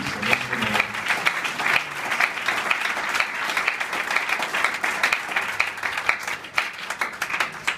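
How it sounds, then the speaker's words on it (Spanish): A church congregation applauds during a sermon, steady dense clapping from many hands filling the room at even loudness throughout, with no speech over it. "Otro aplauso para el Señor Jesús"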